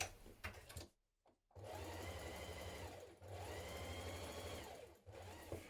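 Sewing machine stitching pocket pieces into the seam of a long coat, a steady whirring hum in two runs separated by short pauses, close and alone.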